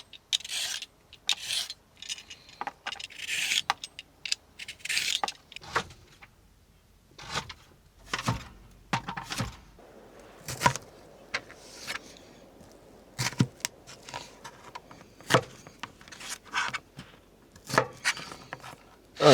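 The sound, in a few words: peeling and julienning carrots, chopping cucumber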